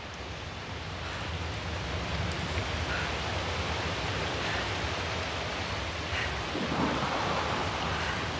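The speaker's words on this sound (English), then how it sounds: "Storm's getting worse." Stormy weather in The Invincible: steady heavy rain hiss with low rumbling thunder rolling underneath, loud and continuous throughout, with a swell near the end and no talking.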